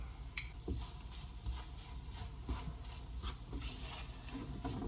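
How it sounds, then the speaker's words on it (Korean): Freshly cooked rice being stir-fried with oyster sauce in a pan gives a continuous sizzle with scraping and tapping of a utensil against the pan, close and moderately quiet. "그리고 갓 지은 밥 투하 그리고 밥을 넣고 볶으면서 이 굴소스를"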